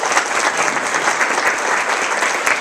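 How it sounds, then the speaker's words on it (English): A room claps loudly for the speaker Smita at a Vermont hunger-action gathering, brisk close applause with distinct sharp hand strikes, steady throughout with no talk. "So everyone give a round of applause for Smita."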